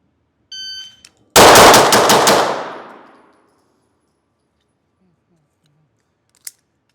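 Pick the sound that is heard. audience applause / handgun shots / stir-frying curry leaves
handgun shots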